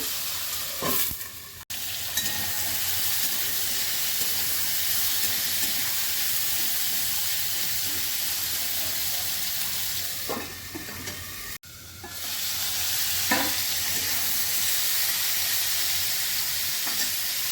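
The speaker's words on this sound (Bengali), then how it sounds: "জিরেটা ভাজা হয়ে গেছে" Steady sizzling of cumin frying in hot oil fills the clip, with occasional scraping stirs in the pan and a brief break partway through.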